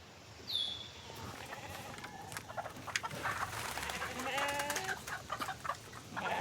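Chickens cluck and crow on a farm, several birds calling near and far in irregular bursts over steady outdoor ambience, with no voices.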